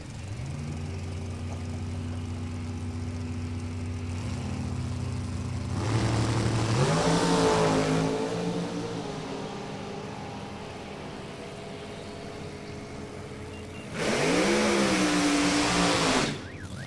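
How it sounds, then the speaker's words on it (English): A loud drag racing car engine at an NHRA event idles and rumbles, then roars up in two revving bursts that swell and drop back, heard fairly close with no talking. "That's another loud, scary car."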